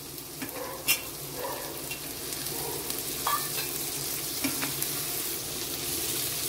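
Potatoes go into a hot pan with peas and other vegetables for a vegetable bath, giving a steady oily sizzle broken by a few scraping stirs and clinks, close and with no talking.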